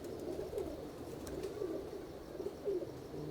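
A pigeon coos in soft, repeated low phrases, close by against a steady background hum.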